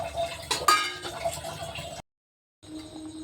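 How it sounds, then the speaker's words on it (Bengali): Fried pointed gourd pieces are tipped into a cooking pot of curry with little water, giving close clinks of utensil on metal and soft sizzling, then a short silence before more pot noise. "এবার এর মধ্যে ভেজে রাখা পটলগুলো দিয়ে দিচ্ছি।"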